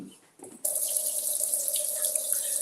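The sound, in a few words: washing hands under running tap water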